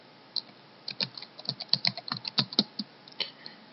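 Rapid keystrokes on a computer keyboard, a quick uneven burst of close, crisp clicks typing out a short search, with no voices.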